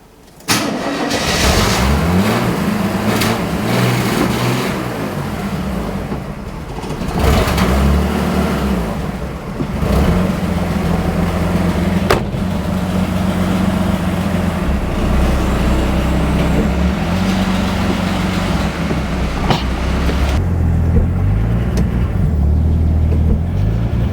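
An old 1977 pickup truck engine, unused for 10-12 years, cranks, catches and runs loudly up close in a shop, rumbling and revving unevenly for a long stretch with occasional rattles and knocks.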